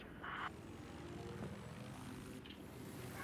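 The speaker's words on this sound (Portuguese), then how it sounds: "Pegou o helicóptero. Tá vindo já." Helicopter rotor and engine drone in a video game, a steady low whir that grows slightly over a few seconds, with brief game effect sounds layered on top.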